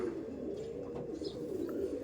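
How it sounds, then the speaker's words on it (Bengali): Low, soft cooing from a pair of Andhra pigeons murmurs steadily throughout, with a faint higher chirp here and there. "আন্ধ্রা থেকে আনা এই দুটো পায়রা আন্ধ্রার পায়রা"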